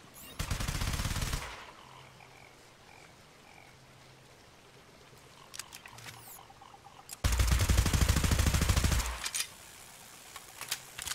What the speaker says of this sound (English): Shoot the pistol and then reload.